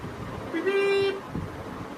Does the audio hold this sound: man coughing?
no